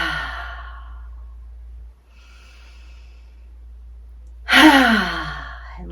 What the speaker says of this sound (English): we'll do 3 surrender breaths